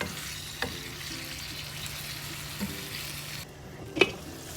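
Prawns roasting with curry leaves in a covered pan, a steady close sizzle broken by a few spoon stirs and scrapes, with a brief clank near the end and no talking.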